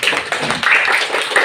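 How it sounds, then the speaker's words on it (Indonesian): A primary school class claps for a student, a brief burst of several children's hands clapping unevenly and close by, lasting just over a second. "Nah, tepuk tangan untuk Ceko."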